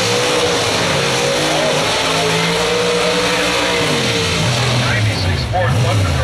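Drag racing cars launching at an NLR Ultimate Door Car finals event, a 57 Chevy and a 96 Ford Thunderbird, loud sustained engine roar with rising revs throughout, under an announcer talking.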